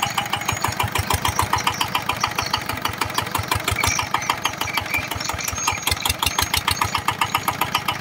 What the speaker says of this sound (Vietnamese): Anh em nghe tiếng gốc dầu của nó chưa?